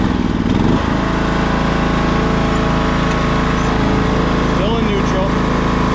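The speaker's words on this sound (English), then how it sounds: "Let's give this another try. Gonna go up to choke." An old John Deere lawn tractor engine turns over and catches, then runs at a steady, loud, close drone with the choke on and the tractor in neutral, and a voice briefly speaks over it.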